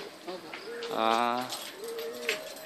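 Pigeons kept as breeders coo in a mountain setting, giving a rounded, pulsing coo that swells near the middle of the moment, with softer bird calls before and after and people talking nearby.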